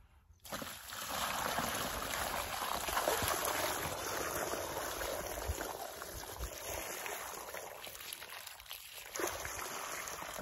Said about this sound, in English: Now we're going to pour a bucket of water in.